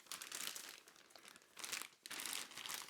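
Clear plastic bag packaging around a Nike shoebox crinkles and rustles in bursts, close and fairly quiet, with short pauses between handling sounds.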